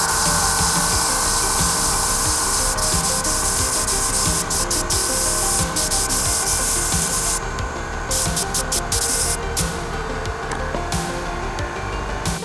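Spray gun applying a wet clear coat to a custom Mandalorian helmet, a steady loud hiss that runs the whole time with brief breaks in the airflow near the end and no voices.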